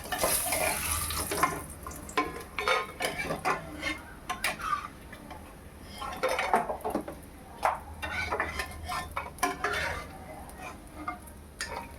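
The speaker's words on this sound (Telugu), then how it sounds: "తీసేద్దామండి, బాగా ఫ్రై అయిపోయింది." Fried eggplant pieces are lifted out of a hot pan of oil for a traditional Andhra brinjal curry, with steady sizzling under repeated scraping and clinks of a spatula against the metal pan, close and fairly loud throughout.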